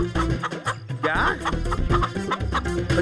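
A rooster in an animated Hindi comedy episode clucks repeatedly in loud, close bursts over busy background music.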